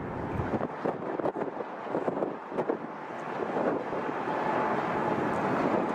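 An Air New Zealand airliner climbs away after takeoff at London Heathrow, its jet roar a broad, steady rush heavily buffeted by gusty wind on the microphone, with no one talking.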